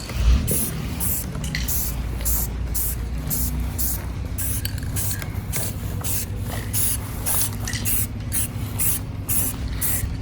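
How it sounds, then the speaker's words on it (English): An aerosol can sprays paint onto a giant shave ice sculpture in repeated loud, close bursts with short pauses between them, following a steady rhythm. "we're going to do our best to get into all the nooks and crannies as best we can without spraying so much that the paint just globs"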